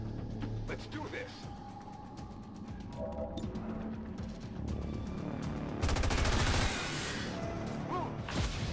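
Sustained automatic gunfire in XCOM 2, rapid overlapping bursts building to a loud, dense volley near the end, with voices talking over the shooting.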